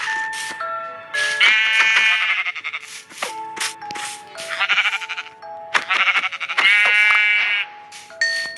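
Sheep in the Minecraft video game bleat repeatedly, several wavering cries in quick succession with short pauses and small clicks between them, loud and close with no talk.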